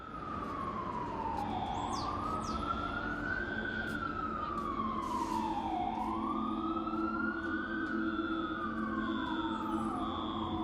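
Wailing emergency sirens rise and fall in long slow sweeps, sounding from a distance through empty streets during the COVID-19 outbreak, over a steady low hum, with no traffic noise.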